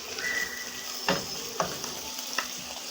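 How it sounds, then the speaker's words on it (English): A spoon stirs beef stew with vegetables in a pot over a constant background sizzle, giving a few soft scraping knocks against the pot, with no talking. "Stir well to make it mix with the rest of the vegetables."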